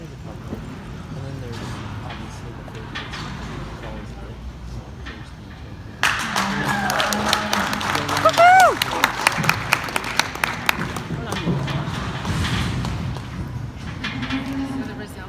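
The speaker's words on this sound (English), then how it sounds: "let's give them all a nice round of applause" Audience at a goat show breaks into a round of applause, clapping rising suddenly and sustained for several seconds amid barnyard noise and faint moos from livestock, with talk nearby before and after.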